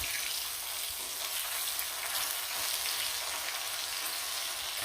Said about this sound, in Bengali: লাল লাল করে ইলিশ মাছ ভাজা